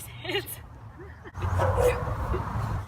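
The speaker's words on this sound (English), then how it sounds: "Oh, you set the dog off." A dog barks and yips near people chatting outdoors, giving a few short, sharp barks and whimpers mixed in with the voices.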